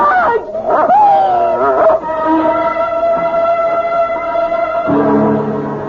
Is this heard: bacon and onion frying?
no